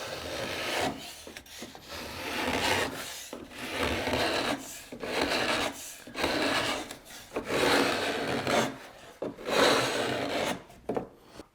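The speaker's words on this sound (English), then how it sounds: "a couple of scrapes with the chisel, and it gets us back nice and clean" A chisel scrapes the internal face of a wooden boat frame with a veneer, giving repeated rasping strokes in a steady rhythm, close and fairly loud, with no talk.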